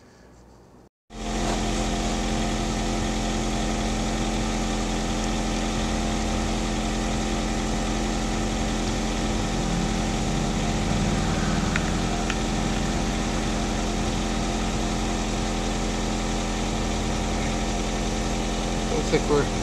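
A Tsumbay portable tire inflator switches on after a second of quiet and then runs continuously, with a loud, steady buzzing motor drone close by that holds unchanged to the end.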